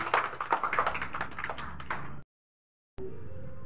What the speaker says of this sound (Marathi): चला टाळ्या वाजवा त्याच्यासाठी.